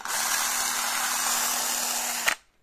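A Bosch 14.4-volt cordless drill under repair, powered by a new battery, runs with a steady high motor whine for about two seconds and then stops abruptly; it sounds close and there is no talking.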